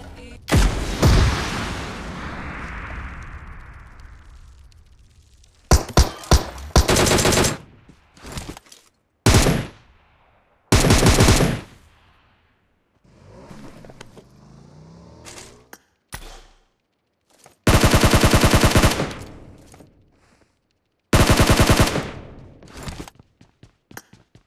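Gunfire in the mobile battle-royale game PUBG Mobile: loud automatic bursts of varying length, broken by short pauses and quieter in-game sounds, with no voices.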